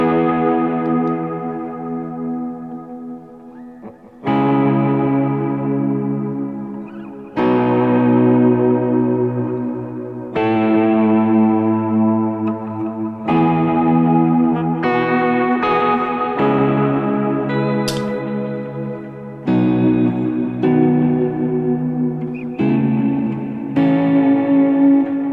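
An electric guitar played through Kemper effects in an ambient worship style swells into lush, reverb-soaked sustained chords, one after another in slow washes, loud and alone with long echoing tails.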